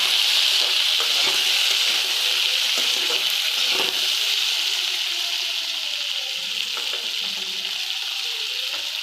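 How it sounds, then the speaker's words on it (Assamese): Raw green peas fry in a pan for an Assamese egg and cashew dish, giving a loud, constant hissing sizzle with scattered scraping stir noises throughout, no voices. "এতিয়া মটৰখিনি মই দি দিলোঁ কেঁচা মটৰখিনি ধুনীয়াকৈ এটা ভাজি ল'ম"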